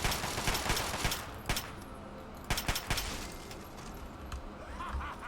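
Gunfire in the Fallout 3 video game: irregular bursts of close, sharp shots, a few clustered volleys separated by short lulls over a steady background din, with no voices.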